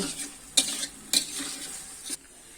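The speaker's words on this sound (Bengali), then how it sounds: "আলুটা আমি এভাবে ভালোভাবে কষিয়ে নিব" Small potatoes sautéing in oil for aloo dum give a close, bright sizzle, with three distinct scraping stirs against the pan spaced roughly half a second apart.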